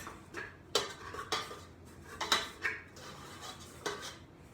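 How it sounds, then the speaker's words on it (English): Powdered sugar being stirred into icing for salted caramel cupcakes, a utensil scraping and clinking against a bowl in a series of irregular taps and scrapes, close and moderately quiet with no talking. "I'm going to kind of try and mix this in just so the powdered sugar gets wet"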